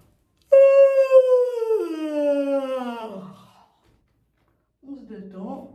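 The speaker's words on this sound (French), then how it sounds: "Et après, on fait des bâillements." A voiced yawn during a vocal warm-up: one long, open-throated tone that slides slowly downward in pitch and trails off into a breathy fade. After a short silence, a second, softer yawn begins.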